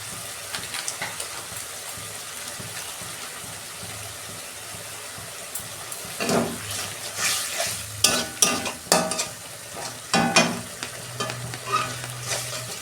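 Spice masala of onions, salt, coriander powder and cumin powder fries in oil and is stirred for a bhola fish curry. Soft, quiet frying gives way to repeated scraping stirs and bursts of close, crackling sizzle.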